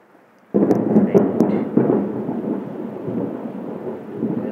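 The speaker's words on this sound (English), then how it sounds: "Storm is coming." A thunderstorm breaks in with a sudden loud rumble of thunder that rolls on steadily for several seconds, with a few sharp cracks near the start and a dense wash of rain-like noise underneath.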